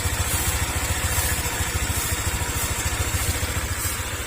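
A warm Honda Click 125 scooter engine idling with a knocking cam chain tensioner, a steady close rapid ticking clatter running continuously and loud without pause.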